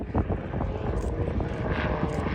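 A propeller aerobatic plane loops at an air show, its engine drone steady and fairly loud with a slight rising whine, heard alone without commentary.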